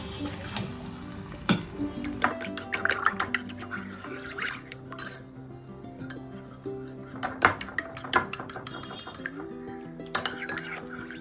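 A utensil stirs and mixes food with steady scraping and clinking against the pan, over soft sizzling and faint background music, close by with no talking.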